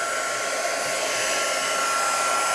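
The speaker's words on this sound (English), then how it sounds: "I'm just going to set this with my heat tool" Handheld crafting heat tool blowing steadily to set stamped ink on a Christmas greetings card, a loud continuous whooshing roar like a hair dryer, close and unbroken throughout.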